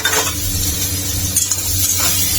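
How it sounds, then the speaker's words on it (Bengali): Spices crackle and sizzle in a hot pan for bottle gourd greens chachchari, a steady close frying hiss with a few soft stir scrapes and no talk. "মশলাটা ভাজা ভাজা হয়ে গেছে"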